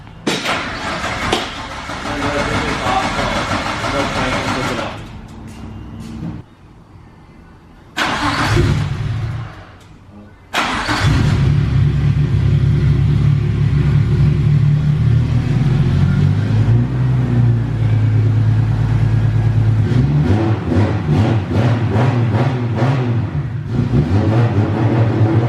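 A Nissan Skyline R34 with a new exhaust and a T51R mod turbo: the engine idles and revs in short bursts with brief cut-outs, then settles into a loud, close, sustained rumble with rising and falling revs.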